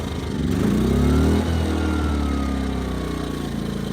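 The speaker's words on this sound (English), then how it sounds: "First, let's start the gen. Look at that, one pull, huh?" A portable generator engine runs close by after a pull start, a steady loud chugging hum that dips briefly in pitch and then settles into an even idle.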